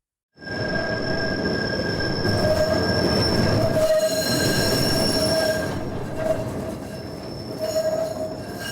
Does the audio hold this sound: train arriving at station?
yes